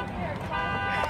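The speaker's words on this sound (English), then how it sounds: "Push the alarm, Juanita." A car alarm set off with the key fob during a graduation-surprise car gift sounds as a brief, horn-like blaring tone that rises partway through, heard outdoors with voices and crowd noise around it.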